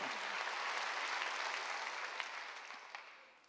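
A church congregation at a Wednesday worship service claps during a sermon, a steady wash of applause that starts full and gradually fades toward the end.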